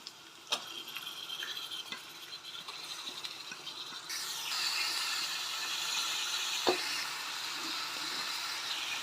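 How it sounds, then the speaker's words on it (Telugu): Washed chicken pieces dropped into a pan of tomato masala with a sudden sizzle that grows into a steady frying hiss, punctuated by clinks and scrapes of a spoon stirring, close by, no talking. "చికెన్ కడిగి పెట్టుకున్నాం కదండి అవి వేసేసుకున్నాం"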